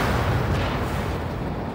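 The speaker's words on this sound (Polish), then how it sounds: "Przywaliła nam artyleria." Artillery shell impact on a Leopard 2A6 tank in a video game, a dense, roaring blast that fills the clip with sustained low rumble and noise.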